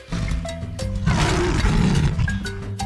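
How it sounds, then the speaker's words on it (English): A big cat lets out a loud, drawn-out roar lasting a couple of seconds, set under light background music in an animated children's bedtime story. "Then, Zui heard a super loud roar."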